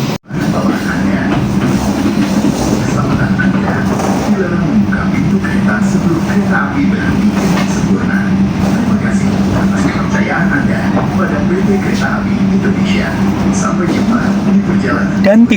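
Steady low rumble and rolling clatter of a moving passenger train, heard from inside the dining car, continuous and fairly loud throughout, with faint talk at times.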